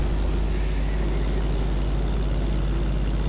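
In a video game, a propeller aircraft's engine drones steadily and loudly throughout, a dense, unbroken low rumble with no variation.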